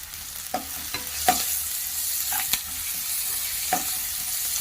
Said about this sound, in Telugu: ఇప్పుడు ఆనియన్స్ అంతా బాగా ఫ్రై అవుతున్నాయి చూడండి